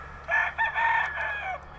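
A garden chicken gives a short run of loud, close calls, rising and breaking into a few clucking bursts, with nothing else much around it.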